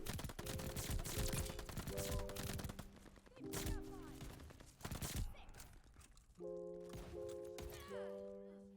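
Shotgun fire in a Call of Duty video game, a series of sharp loud blasts in quick bursts mixed with game sound effects and short tonal chimes.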